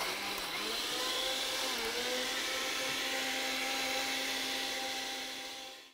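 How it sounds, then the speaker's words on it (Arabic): A blender mixing crepe batter whirs at high speed in one continuous loud drone, its pitch dipping slightly as it works, then spinning down at the end. "رح نسكر الخلاط وعلى السريع نخلط كل المكونات مع بعض لحد ما يتجانس"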